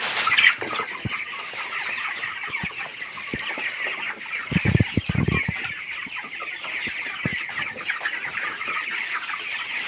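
A flock of 20-day-old broiler chickens on a poultry farm clucks and chirps continuously, a dense, busy chorus of overlapping calls with a few louder nearby bursts.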